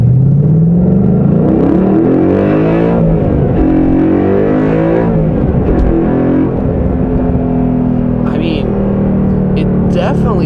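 A Ford Mustang Boss 302 with a Flowmaster American Thunder cat-back exhaust accelerating at full throttle, its loud V8 rumble climbing steadily through rising revs, with shifts between them, close and continuous.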